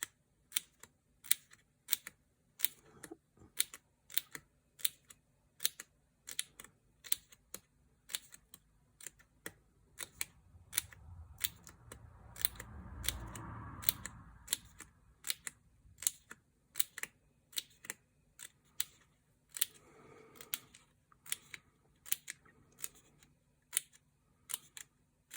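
Scissors snip thin paper strips for a handmade hat-shaped scrapbook album, sounding as a rapid, regular run of sharp close cuts that continues with no one speaking.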